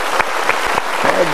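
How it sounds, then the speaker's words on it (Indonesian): Audience applause at an Indonesian motivational talk, a short burst of clapping with a voice briefly cutting in over it. "Kita berikan tepuk tangan ya."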